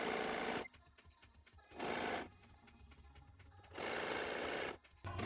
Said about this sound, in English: When beginning and ending the sewing, I run the needle back and forth, and this way the thread locks itself.